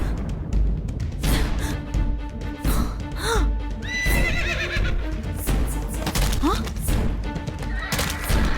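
A horse neighs and whinnies in loud repeated bursts, mixed with hoof clip-clops and thuds, in a dramatic scene with other sounds layered around it.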